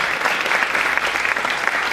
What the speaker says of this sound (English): Look at all that love in the form of clapping.